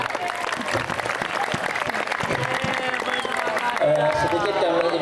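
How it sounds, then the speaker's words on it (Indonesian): Audience applause at an Islamic boarding school evening gathering, loud continuous crowd clapping with a few voices and cheers mixed in toward the end. "Tepuk tangan semua."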